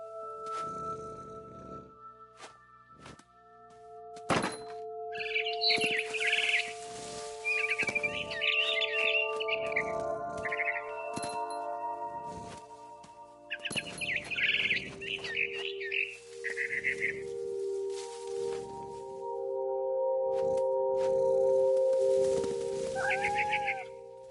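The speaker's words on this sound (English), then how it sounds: "I heard chirping outside my window. It was a barn swallow going back to her nest." Barn swallow chirps and twittering calls in What Remains of Edith Finch come in short bursts over a hum of ambient tones, fairly close and clear, with no talking.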